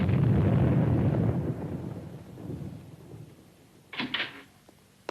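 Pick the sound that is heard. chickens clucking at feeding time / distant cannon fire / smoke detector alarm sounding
distant cannon fire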